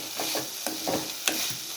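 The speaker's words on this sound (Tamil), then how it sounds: "சிம்லேயே வச்சு அப்படியே வதக்குங்க." Chopped banana flower and onion sautéing in oil on a low flame, giving a soft, steady sizzle beneath a few quick spatula scrapes and taps against the pan, with no voices.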